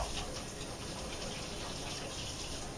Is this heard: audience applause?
no